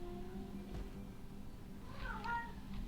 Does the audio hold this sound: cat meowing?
yes